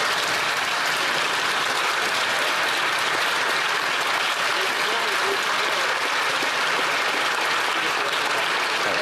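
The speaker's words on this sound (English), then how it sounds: "the Liberals start standing and clapping like seals" Liberal members standing and clapping in the House of Commons, a dense, loud, continuous roar of applause filling the chamber with crowd noise and indistinct voices mixed in.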